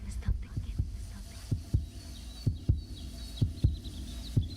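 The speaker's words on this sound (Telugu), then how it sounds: "అదే తన గుండె చప్పుడు." A heartbeat thudding in low, evenly spaced double beats, about ten over several seconds, with a faint hum and soft whispery sounds underneath.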